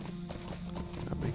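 Horse hooves clip-clop steadily in the Lord of the Rings Online game, a repetitive trotting rhythm under game music, while someone talks over it.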